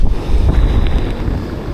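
Surf driven by Typhoon Uwan rolls onto the shore at Dinahican, Infanta, Quezon, a loud rushing roar of waves mixed with heavy wind buffeting the microphone, close and continuous.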